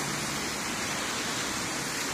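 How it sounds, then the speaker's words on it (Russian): Dense, even hiss of evening rain pouring down in Berlin, loud and continuous with no voices. "Дождь."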